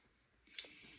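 Scissors snip once through fabric while sewing a child's bishop jumpsuit sleeve, a short crisp close cut in a quiet room.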